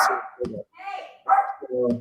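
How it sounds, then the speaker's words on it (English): A dog barks close by, with a few sharp, separate barks over two seconds, heard among voices during a live horse racing talk show. "Is that your dog?"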